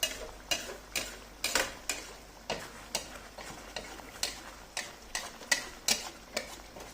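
A utensil stirs chicken gulai in a pan, striking the pan in a steady ticking rhythm about twice a second over a faint simmering sizzle, close up and with no talking.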